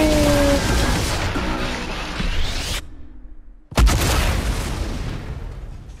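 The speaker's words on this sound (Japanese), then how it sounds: "最後ロボットの爆発に、相手を巻き込めばいいのよ" A robot blows up in the Fortnite video game: a whooshing build-up cuts to near silence, then a sudden loud boom bursts out and rumbles on in a long noisy tail.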